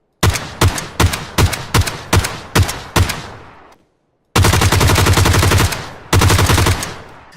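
Loud G36C rifle gunfire from PUBG Mobile: seven sharp single shots in a steady rhythm, a brief silence, then two sustained full-auto bursts of rapid fire, close and alone with no talk.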